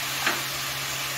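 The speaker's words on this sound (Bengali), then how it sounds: "পেঁয়াজটা দিয়ে দিচ্ছি" Onion tipped into hot oil for a winter vegetable bori dish with potato, beans and cauliflower, giving a steady bright sizzle throughout, close and even, with a faint low hum underneath.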